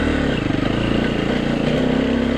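A KTM EXC-F motorcycle rides a gravel forest road in Okutama, Japan, its engine droning steadily and loudly throughout with a continuous rattling clatter.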